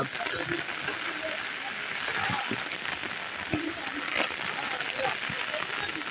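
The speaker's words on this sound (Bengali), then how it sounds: "একসাথে বৃষ্টি হইতেছে" Heavy rain pours down in a steady, dense hiss that fills the whole clip, with people talking underneath it.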